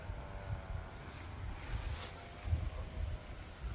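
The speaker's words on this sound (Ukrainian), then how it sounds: "Дуже вітер такий аж свистить." Low, blustery wind rumbles and buffets the microphone in uneven gusts, with a faint airy hiss on top; no voices.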